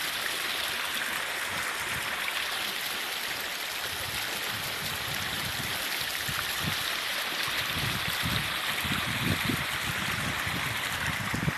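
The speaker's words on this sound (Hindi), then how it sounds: "देखिए पानी कितनी अच्छा है, कैसा बहते जा रहा है।" A stream flows near a waterfall amid green hills, a constant rushing, gurgling wash of water that stays loud and even throughout with no voices over it.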